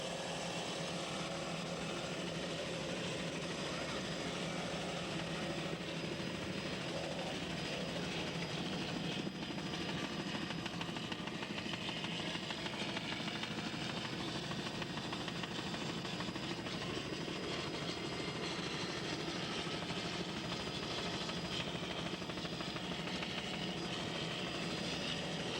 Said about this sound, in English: Billy French, he doesn't pull back on those throttles if you notice. He just got it pegged down